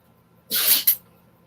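A puppy lets out one short, sharp sneeze with a quick hissing burst and a brief second puff, close and loud against near silence.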